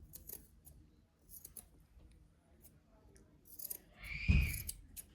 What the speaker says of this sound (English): Now, we're going to have to cut this on this end, like so.